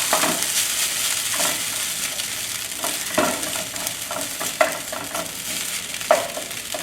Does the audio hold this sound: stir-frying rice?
yes